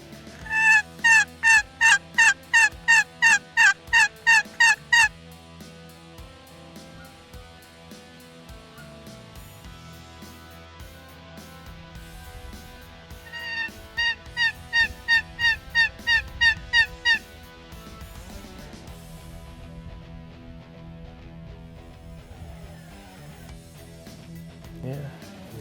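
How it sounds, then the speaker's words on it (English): Wild turkeys call during a spring gobbler hunt, with a loud burst of rapid rhythmic yelps followed later by another quieter series, then low rumbling field sounds. "He's starting to see the turkeys"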